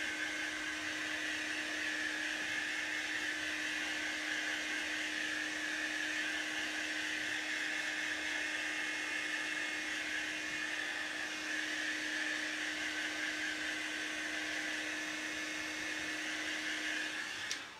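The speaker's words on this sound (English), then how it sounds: "So this is piece B1 and I am going to blow dry" A hair dryer blows steadily on a chalk craft project, a constant close whooshing hum with a fixed whine that runs unbroken for the whole stretch and cuts off at the end.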